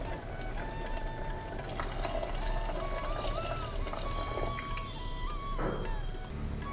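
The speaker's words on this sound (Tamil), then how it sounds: "இதுக்கு தேங்காய் பால் சேர்க்க போகிறோம்" Coconut milk pours steadily into a pot on a low flame with a soft, continuous trickling sound, fairly faint against a low background hum.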